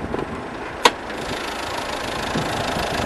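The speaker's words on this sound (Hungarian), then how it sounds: "Nézzük meg, hogy ez hogy is ketyerészik ez a motor itt." A Nissan Qashqai 1.5 dCi diesel engine idling with a steady low clatter, one sharp click near the start, recorded close with no talking.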